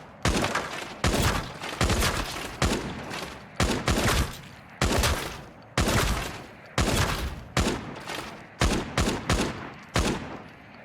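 Loud gunfire from the shooter Arena Breakout: Infinite, fired as repeated short automatic bursts with brief gaps between them, around a dozen volleys, close and alone with no talking.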